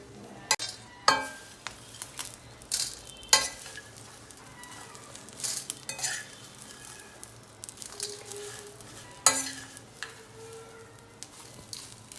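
Curry leaves frying in a pan for Telugu karivepaku podi, a steady sizzle broken by repeated scraping and clinking stirs of a spoon against the pan.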